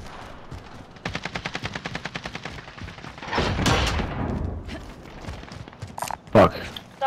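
Rapid automatic gunfire in Call of Duty: Modern Warfare, a steady burst of evenly spaced shots followed by a louder blast and scattered later shots, with voice chat underneath.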